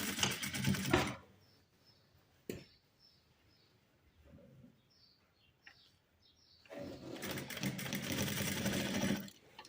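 A sewing machine stitching a blouse runs in two loud rapid bursts, a short one at the start and a longer one at the end, separated by a quiet pause with faint rustling and small handling noises.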